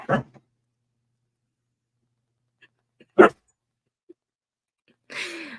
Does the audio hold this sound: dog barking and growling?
yes